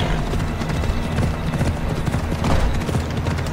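Video game horse hooves clip-clop in a quick, continuous rhythm, loud and close, with a faint whinny-like tone mixed in.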